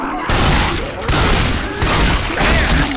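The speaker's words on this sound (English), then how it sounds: "I just shot a boomer like 8 times" Rapid, dense video game gunfire from Left 4 Dead 2 is aimed at a Boomer zombie, with loud, continuous shots in several bursts with brief gaps, with possible faint talk underneath.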